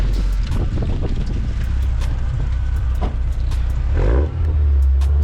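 A supercharged Honda S2000 sports car drives with a loud, close engine drone and rumble. Wind and road noise run underneath, and the engine note swells as it picks up speed near the end.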